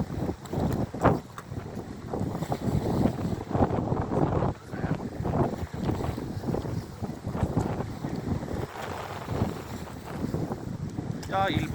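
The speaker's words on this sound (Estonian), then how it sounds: "tuul ei ole küll enam tormine, aga piisavalt tugev, nii et laine lööb vahtu edasi" A strong, gusty wind blows at a harbour shore by the Lennusadam seaplane hangars and crane, with waves foaming. The wind roars and buffets the microphone continuously, waves wash in beneath it, and a voice is faintly audible at times.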